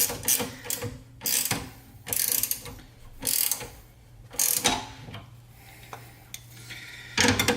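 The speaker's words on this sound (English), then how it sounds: "I'm going to tighten it evenly so that it's good practice." Hand ratchet tightening the bolts of a custom Hi-Lift jack mount on a Rola roof rack of a Toyota 4Runner: repeated close bursts of rapid clicking, each about a second long, separated by short pauses.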